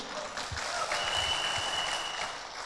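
An audience bursting into warm, sustained applause at an Indonesian gathering, a dense wash of many hands clapping together at moderate distance, steady throughout.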